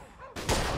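A sharp gunshot from Mafia 2 rings out after a quiet moment, a loud burst followed by a brief ringing decay.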